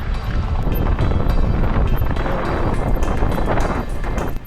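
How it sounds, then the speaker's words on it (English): Strong wind roaring steadily across the microphone while riding a full-power Transition Regula electric mountain bike on loose, rocky dirt, a continuous broadband rush with no talk. "That wind just blew me sideways."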